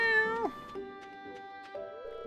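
A cat meows in Stardew Valley, several short rising and falling meows in quick succession, close and clear with no talk over them.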